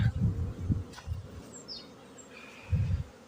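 Honeybees flying out of their hives on a cool spring day for the first cleansing flight, a low buzzing swarm drone swelling and fading near the microphone, with faint bird chirps in the background.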